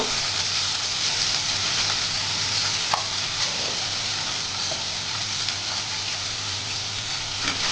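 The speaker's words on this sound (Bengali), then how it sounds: "নুন দিয়ে পনিরগুলো আমি একটু এবারে দেখো আমি ভেজে নেব" Salted paneer pieces fry in oil and butter over a low flame, giving a steady, dense, close sizzle that holds for several seconds with one brief tap partway through.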